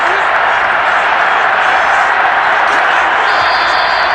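Stadium crowd noise in the Madden NFL 22 video game fills a simulated Chiefs versus Rams Super Bowl, a loud, constant roar with no breaks, while a commentator's voice runs over it.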